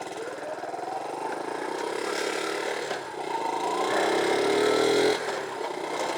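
An Easy Rider M50 50cc monkey bike with folding handlebars runs at a steady buzzing idle that rises slightly as it goes into gear, moderately quiet and close, with no one speaking.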